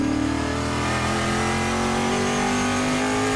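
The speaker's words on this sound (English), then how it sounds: "Nagai racing Berkeley Jet Drive Chevrolet Camaro." A Chevrolet Camaro Trans Am XGT race car on the Thunderhill track, its engine roaring loud and sustained at high revs with a rising pitch.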